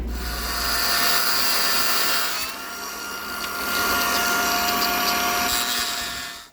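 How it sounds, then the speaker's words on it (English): A cut-off saw with a cut-off blade grinds through a Corian countertop in an RV, a loud, steady, high-pitched whine that dips briefly midway, then resumes before trailing off at the end. "I'm just gonna use the same cut-off saw right there, cut-off blade. It cuts through corian pretty well."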